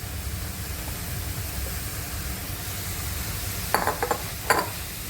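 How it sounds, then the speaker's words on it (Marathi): Finely chopped fenugreek goes into cooked masala in a pan for malai methi paneer, with a faint steady sizzle underneath and a few brief scraping stirs near the end. "मसाला चांगला शिजलाय, तर त्यामध्ये आपण ही बारीक चिरलेली मेथी घालूया।"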